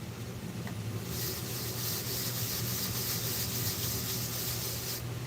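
Sandpaper held against a wood-turned pen spinning on a lathe gives a steady, loud, close rubbing hiss over the constant motor hum, with no talk.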